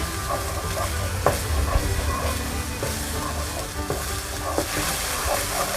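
Kaffir lime leaves stir-fried in green curry paste for a Thai green curry with chicken and winter melon, making a continuous close sizzle with soft scraping and clinking strokes from the spatula.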